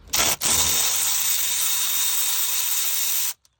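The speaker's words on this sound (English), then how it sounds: "I'm just using my Milwaukee 1/4" drive with a 4-inch extension" A Milwaukee 1/4 inch drive power ratchet with a 10mm socket removes transmission pan bolts on a 2023 Sierra HD 10-speed, a brief blip then a steady close, loud whirring run of about three seconds that cuts off.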